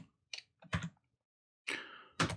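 Sparse keystrokes on a computer keyboard enter a short terminal command, a few quiet clicks separated by pauses, heard close and alone.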